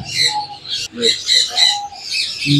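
Ringneck parrots and other caged birds calling at a Sunday bird market in Bahawalpur, with near chirps and squawks running throughout, mixed with crowd noise.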